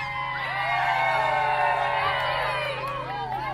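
A large audience of children in a theater show by a performer in Almonte shouts, whoops and cheers like fans, a loud continuous roar of high voices throughout.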